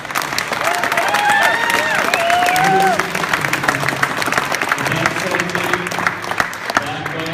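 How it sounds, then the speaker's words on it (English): A crowd applauds a departing youth football coach at an end-of-season Pee Wee Titans gathering, with steady clapping and scattered cheers running on under music throughout. "So one last time, we'll give Coach Dowse a round of applause."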